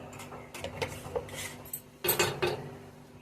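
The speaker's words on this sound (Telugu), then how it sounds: "ఉప్పు యాడ్ చేసుకున్నాక ఒకసారి మొత్తం అంతా కలుపుకుందాం" A spoon stirs wheat rava upma with salt in a pan, giving close, irregular scraping and clinking strokes that cluster into a louder burst near the end.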